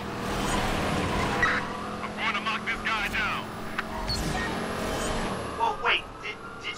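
Nitrous-boosted smart car in Watch Dogs 2 racing and skidding through city streets, engine drone with intermittent tire squeals and screeches, heard beneath game dialogue and other voices.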